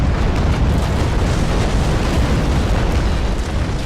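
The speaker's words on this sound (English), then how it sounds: "I'm sort of preparing myself for giving him a full-on ball broadside as he comes in, and fire" Continuous heavy booming roar of a sailing warship's cannon broadside in Naval Action, the Constitution frigate firing full ball shot, a dense loud rumble of overlapping blasts sustained throughout with no clear gaps.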